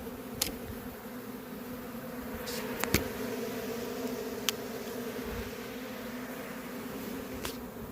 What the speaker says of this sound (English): I'm going to have to figure out how to get these bees out of this box